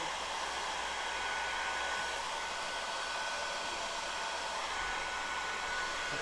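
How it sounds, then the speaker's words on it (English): A heat gun shrinking heat shrink tubing for a boat's power trim switch wiring blows a loud, constant airy roar with a faint steady whine, unbroken and close throughout. "so I actually got Mr. Heat Gun out. We're gonna shrink this heat tubing the right way."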